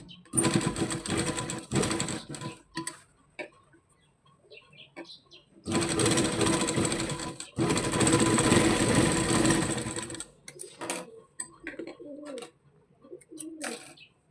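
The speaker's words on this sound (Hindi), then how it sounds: "हमें एक पैर की सिलाई लगानी है," A sewing machine stitches the seam of a baby frock in two sustained runs, a short burst at the start and a longer steady whir in the middle, with brief quiet gaps and soft handling noises between.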